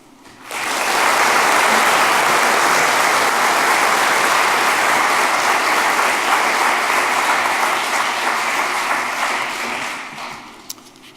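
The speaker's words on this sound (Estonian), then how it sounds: "Ma palun teilt aplausi Eesti IT-kolledži õppejõududele ja õppetöös osalenud sektori praktikutele" Sustained audience applause at an Estonian IT College graduation ceremony honouring the teachers, swelling in quickly, holding steady and loud for about nine seconds, then tapering off.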